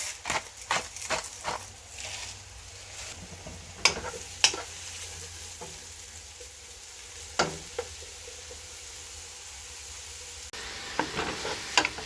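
Mushrooms with thyme and salt cooking in a pot give a steady low sizzle, punctuated by clusters of sharp utensil taps and scrapes against the pot, some close and loud, with no speech.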